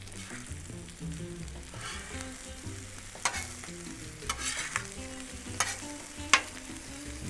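Shrimp fried rice sizzles in a hot pan as sauce goes in, with a steady frying hiss, soft stirring scrapes and a few sharp utensil clinks against the pan. No talking.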